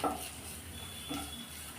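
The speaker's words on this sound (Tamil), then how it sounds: "இப்போ இது நல்லா எண்ணெயிலேயே வதக்கி விடலாம்" Chopped onions sizzle in hot oil in a pan over medium flame, with a soft close stir and scrape of utensil against the pan over a low steady hiss.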